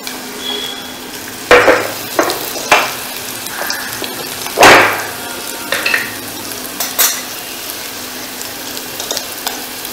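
Red chili powder, turmeric and coriander powder sizzling in hot oil in a pan for Sindhi dal, with a soft steady fry and several scraping stirs of a spoon against the metal.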